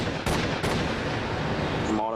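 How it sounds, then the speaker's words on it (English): Rapid shots from an automatic pistol fired at night outside a house, three sharp broadband bursts under a continuous dense noisy wash, with distinct hits near the start and the last blast about two seconds in. "I heard 3 shots."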